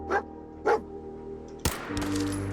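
Dogmeat, the dog companion in Fallout 4, gives two short, close barks about half a second apart. Then comes a sudden harsh burst of noise, with game ambience humming underneath.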